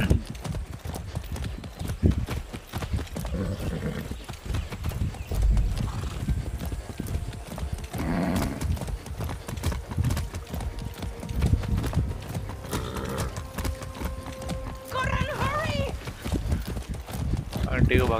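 Horse hooves gallop in a steady, rapid clip-clop throughout the Far Cry 6 video game, close and continuous, with a brief neigh and other game sounds alongside a voice talking.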